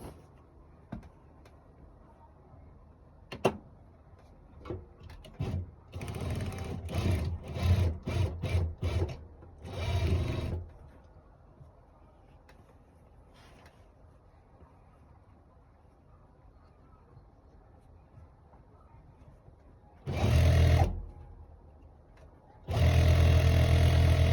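A sewing machine stitches the shoulder seam of a blouse in several separate bursts, with short rapid runs of mechanical whirring and clatter between quiet pauses and a few small clicks and handling noises.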